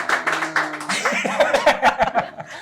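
A stand-up comedy podcast audience gives a short burst of claps mixed with chuckles and laughter, with voices chattering nearby.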